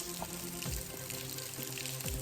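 Small waterfall with very little water after a dry spell, a thin continuous trickle and splash that is steady and fairly close, with no voices.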